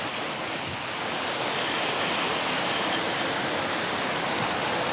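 A waterfall at Serra do Aracá roars in a steady, loud, unbroken wash of rushing water, heard close with no voices.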